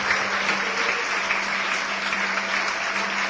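A church congregation claps steadily during a worship service, an even wash of applause throughout with no clear voices on top.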